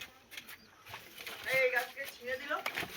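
Pigeons coo softly inside a pigeon loft, with a few low, burbling calls and a faint rustle of wings, quiet and fairly close against a hushed background.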